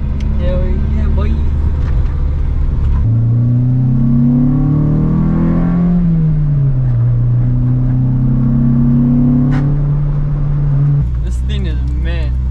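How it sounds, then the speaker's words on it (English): A right-hand-drive Honda Integra, revived with junkyard Honda CR-V and Prelude parts, drives laps around the block. Its engine drones loudly and steadily from inside the car, rising and falling in pitch as it accelerates and shifts. "We're gonna go for a few laps around the block just to make sure that the drivetrain is all good to go."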